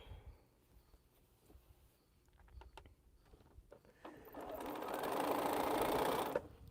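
A sewing machine stitches mini pinwheel quilt blocks for sashing. After some faint handling noises, a fast, steady mechanical whir runs close and fairly loud for about two seconds, then stops.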